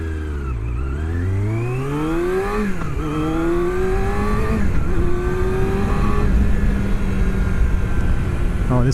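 Motorcycle engine revving and shifting through city traffic in Kyoto, rising and falling in pitch with each gear change, loud and close alongside other vehicle noise, with someone talking over it.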